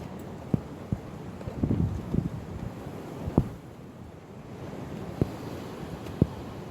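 Wind gusting across a fishing bank, a rough buffeting rumble on the microphone that rises and falls, broken by a few sharp knocks and taps.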